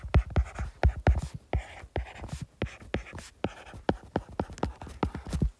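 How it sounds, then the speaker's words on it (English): A pen scratching out a chemistry rate equation by hand: a steady run of short, close strokes and taps with brief pauses between them, heard alone. "I'm going to copy the equation down so I don't have to keep scrolling up and down."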